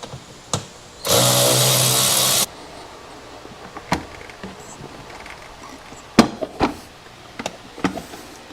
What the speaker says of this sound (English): This takes a 10mm socket.